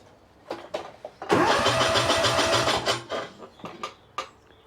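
A ride-on mower engine cranks with a starter whirr for under two seconds, then stops, leaving scattered clunks and knocks before and after; loud and close.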